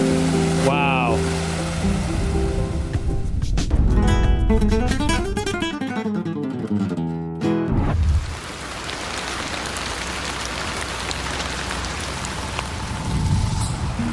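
Spontaneous waterfalls pour across roads and hillsides after extremely heavy rainfall in a village, a broad rushing roar of water that fills the scene, with a brief exclamation and some louder mixed noise early on before the steady torrent.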